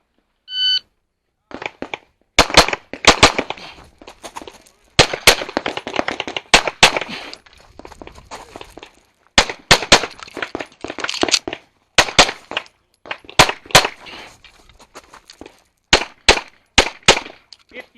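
Rapid pistol gunshots fired through an IDPA shooting stage, loud sharp cracks in quick pairs and strings with brief pauses between bursts, an electronic timer beep at the start.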